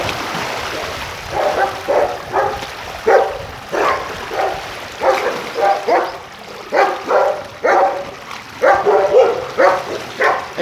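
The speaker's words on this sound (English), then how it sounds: "Excuse me for these dogs barking." Several dogs bark repeatedly in short bursts, fairly close, amid a flooded residential area after heavy rain, with a faint rushing of running water underneath.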